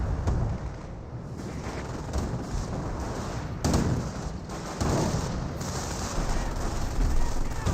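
A Calliope rocket barrage slams into Panther tanks in the Company of Heroes strategy game, sending dense overlapping booms and crackling blasts across the whole span, loud and continuous with heavier impacts near the middle.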